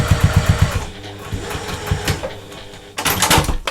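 A sewing machine top-stitches a fabric sanitiser case with a fast, rhythmic mechanical chatter up close, slows through the middle, then speeds up again into a quick burst.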